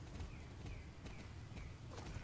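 Heavy hoofbeats of an oversized Super Shire horse in the Star Stable online game, a steady clip-clop of evenly spaced strikes over a low background hum, no voices.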